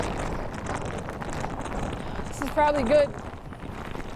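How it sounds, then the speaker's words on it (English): Hurricane-force gusts of 50 to 60 mph roar and buffet the microphone in Virginia Beach, with someone talking over it and a brief tonal sound rising near the end. "Yo, this is a crazy wind."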